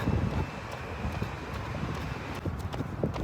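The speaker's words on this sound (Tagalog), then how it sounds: "Sobrang lakas ng hangin." Strong wind gusting against the microphone outdoors during a run, a steady loud low rumble with buffeting bursts throughout.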